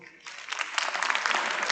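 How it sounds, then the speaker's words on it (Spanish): Light applause from a conference audience, a soft patter of clapping that swells in after a quiet start and stays gentle and steady. "Un aplauso ligero."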